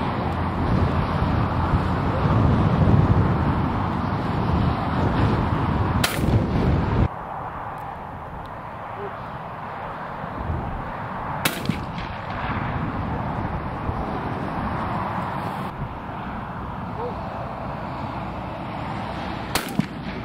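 Shotgun blasts at a clay pigeon shoot on a Highlands farm, three or four sharp, loud reports spaced several seconds apart over steady outdoor background noise.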